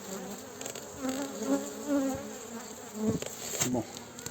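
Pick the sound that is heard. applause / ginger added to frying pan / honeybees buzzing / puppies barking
honeybees buzzing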